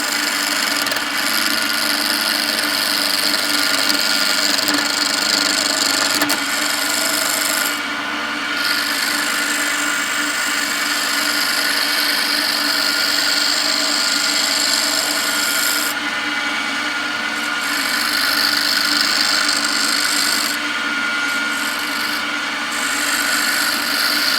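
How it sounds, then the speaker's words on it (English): A skew chisel cuts a pen blank spinning on a wood lathe, producing a steady, close scraping and rasping hiss with a constant motor hum that keeps going throughout, easing off briefly a few times. "I'm going to ride the bevel, and you can see that cutting edge. See how it engages with the wood."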